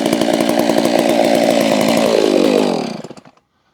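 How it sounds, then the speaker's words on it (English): Holzfforma G660 chainsaw close by on a cold morning, idling with a loud, rough, fast-pulsing engine note, then cut off and quickly sputtering to silence near the end. "I'm just letting the saw cool back down a little bit while it idles"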